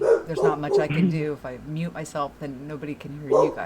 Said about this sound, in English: I'm sorry about my dog, you guys.